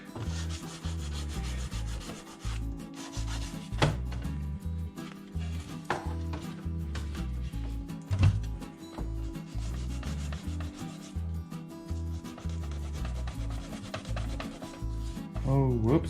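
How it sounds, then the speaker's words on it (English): Sandpaper rubs steadily over the plastic body of an RC Jeep Cherokee shop truck being given a faded patina, a continuous close scratchy grinding with brief pauses and occasional knocks. "I didn't so much sand that off as I did just rip it off"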